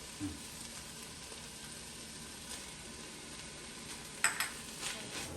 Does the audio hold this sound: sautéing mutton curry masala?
yes